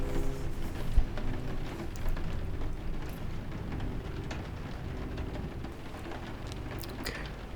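Steady rain pours down in a dense, even wash of patter, with one brief louder thump early on before easing slightly, heard up close with no voices.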